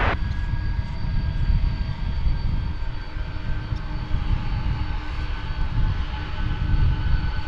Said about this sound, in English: we get to hear its engines roar once again